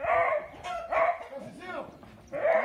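Dogs bark in short repeated bursts, close and loud, while cows are herded out of a corral onto a road, with people talking in between the barks.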